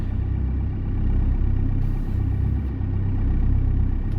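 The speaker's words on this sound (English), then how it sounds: "Engines are started." Boat engines idle on the Norfolk Broads, a steady, close, low throbbing rumble with slight rhythmic swells and no voices.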